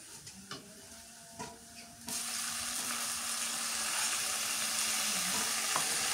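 Chili paste drops into a pan of fried onions and a steady, loud sizzle starts partway through, after a few quieter kitchen clinks and a softer frying hiss at the start.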